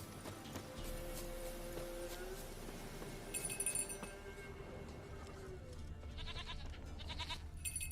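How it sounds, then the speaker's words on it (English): Goat bleats from Witcher 3 gameplay, fairly faint against a busy game soundscape with clinking and a steady low rumble, a brighter burst near the middle. "I hear a goat."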